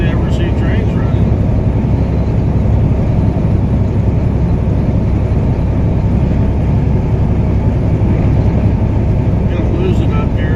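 A Union Pacific train rolls past, giving a steady, loud low rumble that holds throughout with no clear break, heard from inside a moving vehicle on the drive.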